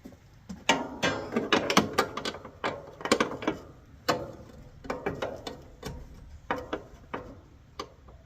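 A wrench ratchets on bolts while the front clip is removed from a Jeep Grand Wagoneer, making close, irregular bursts of metallic clicking and ticking with short pauses between them.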